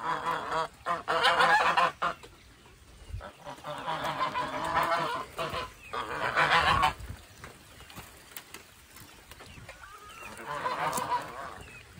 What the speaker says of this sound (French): Et ici, il y a d'autres canards.